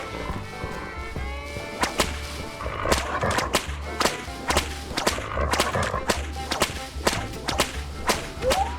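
Sharp whip cracks from the Call of Juarez western game snap out repeatedly at an uneven pace, loud and close, over a steady low rumble.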